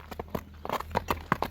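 Horse hooves clip-clop at a steady walking pace, a close, distinct series of hoof strikes on hard ground with no talking over them, from a horse being walked out for inspection at a sale.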